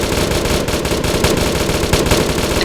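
Video game machine gun fire laying suppressing fire on a building, a continuous loud, rapid stream of shots that fills the whole brief moment.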